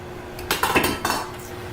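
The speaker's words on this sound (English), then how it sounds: "Constantly stirring until mixture thickens and boils." A spoon clinks and scrapes against a pot on the stove as pie filling is stirred until it thickens. A short cluster of close metallic knocks sits in the middle over a faint steady hum.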